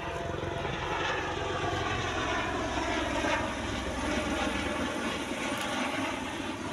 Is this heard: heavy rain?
no